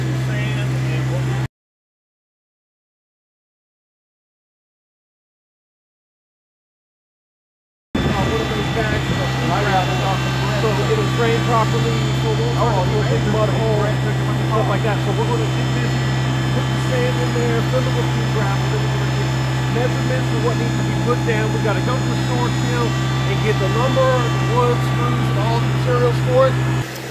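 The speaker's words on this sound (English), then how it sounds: "Rick, with this little tractor, is scooping up some sand and whatnot" A small tractor works nearby scooping up sand during an outdoor shower build, its engine droning steadily and loudly, with mechanical clatter over the hum and a short gap of silence early on.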